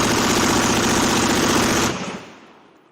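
An HK416-clone BRN-4 with a 10.4-inch barrel fires a sustained, loud automatic burst during a barrel-meltdown test, a dense unbroken roar of rounds for about two seconds before it cuts off and trails into echo.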